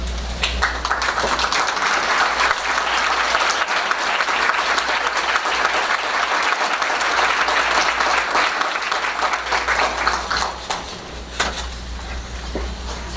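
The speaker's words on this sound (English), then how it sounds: "I earned that round of applause." Sustained applause from a seated audience at a school board meeting as former and current educators stand to be recognized, dense steady clapping filling the room for about eleven seconds before tapering off, with a low hum underneath.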